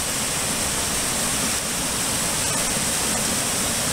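Steady broadband rush of Corral Creek water flowing near a lakeside campground by Lake Chelan, Washington, loud and continuous for the whole stretch with no voices.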